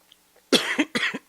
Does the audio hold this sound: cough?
yes